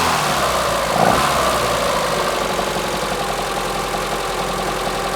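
A Citroen AX Sport engine runs with the choke applied, giving a loud, close, rough and aggressive idle with one brief rise in revs early on, then a steady throb with no talk over it.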